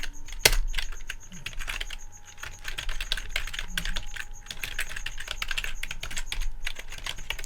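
Steady typing on a computer keyboard while entering values for a JavaScript lesson, a continuous patter of close, crisp key clicks with one sharper tap near the start and no talking.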